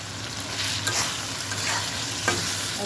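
Spice paste sizzles as it fries in a pan with a large tomato added, giving a steady, close hiss with scraping stir strokes and brief louder crackles, with no one talking.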